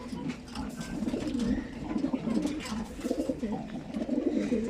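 Pigeons in a loft coo continuously in a low, rolling chorus, several birds overlapping close by with steady rhythm and no talking.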